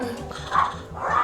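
A pet dog gives two short barks or yips, fairly close and moderately loud, amid low background noise outdoors.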